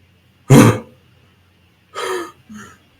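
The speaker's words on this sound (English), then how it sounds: "You hear the guard captain cough." A guard captain coughs, one sharp, loud throaty burst followed by a pause and then two shorter, rougher coughs with a slight wheeze.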